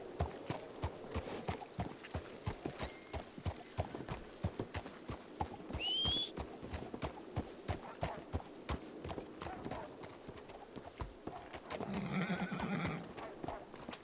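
Horse hooves clip-clop steadily throughout a late-night WildRP video game session, with a sharp whinny from the horse midway and a louder snorting burst near the end.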